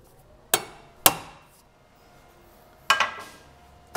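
Hammer blows on a Mini's suspension taper joint while breaking it loose: two sharp metallic strikes, then a pause, then a quick double strike and one more, close and ringing with no talk.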